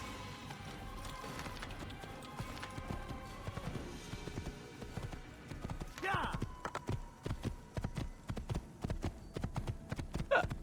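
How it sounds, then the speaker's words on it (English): Horse hooves clip-clop in the Assassin's Creed video game, a steady run of close, sharp hoofbeats amid busy game noise, with a voice talking over parts of it. "Get on the horse."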